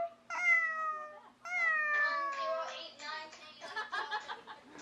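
A person imitates a cat with a few drawn-out, high-pitched meows, two long calls followed by shorter broken mewing sounds, close and fairly loud with no other sound around them.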